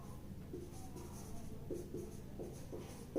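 Pen strokes writing out the solution to a quadratic equations math problem, short scratchy marks recurring at an uneven rhythm, soft and close over a steady low background hum.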